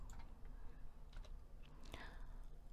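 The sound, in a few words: pressing calculator keys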